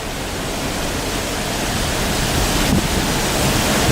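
River water rushes over rocks at Holly River State Park, a dense, loud, steady roar of flowing water with no voices.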